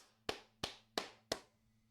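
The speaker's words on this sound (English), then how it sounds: "let's give a round of applause" Four sharp hand claps, evenly spaced about a third of a second apart, fairly faint and close, from a single person over a low steady hum, with no talk.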